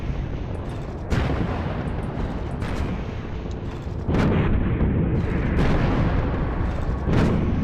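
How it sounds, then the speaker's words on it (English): In the space game Nexus: The Jupiter Incident, the spaceship Stiletto fires on a freighter's hull, producing loud, repeated booming weapon bursts over a constant rumbling din. "right now Stiletto is firing on the hull of this freighter"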